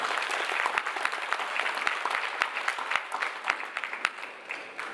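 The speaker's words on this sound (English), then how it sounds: "can everyone just give a big round of applause to Apopan once again?" An audience gives a round of applause at a seminar, many hands clapping at once, with sharp individual claps standing out and the sound fading slightly toward the end.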